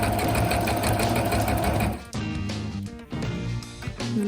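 A sewing machine stitches a seam on a wrap dress with a loud, rapid, close mechanical whirring that runs steadily, then turns into shorter bursts with brief pauses as the fabric is guided.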